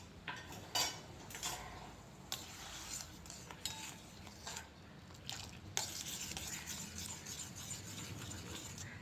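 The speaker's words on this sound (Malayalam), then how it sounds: "വെള്ളം ചൂടാവുമ്പോൾ അതിലേക്ക് ഒരു 1/4 ടീസ്പൂൺ ഉപ്പ് ഇട്ട് കൊടുത്ത് ഒരു തവി ഉപയോഗിച്ച് ഇളക്കി യോജിപ്പിക്കുക." A ladle stirs salted water heating in a pan, giving quiet, irregular scraping and clinking of metal against the pan over a soft background hiss.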